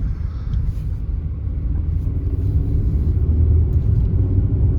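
2011 Mercedes-Benz E350, two-wheel drive, heard from inside on a test drive: a steady low engine and road rumble that swells slightly as it moves off.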